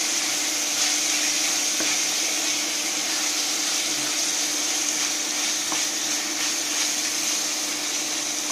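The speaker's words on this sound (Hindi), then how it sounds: "अब हम इसमें अदरक लहसुन का पेस्ट डालेंगे, इसको अच्छी तरह से मिक्स करेंगे" Ginger garlic paste stirred into browned onions and mushrooms in a hot pan makes a steady, close sizzle with faint scraping from the stirring, and nobody speaks.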